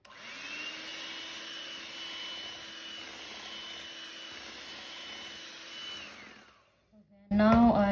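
An electric mixer whirring through cake rusk batter, a steady motor drone that holds for several seconds, then cuts out, followed by a short burst of voice.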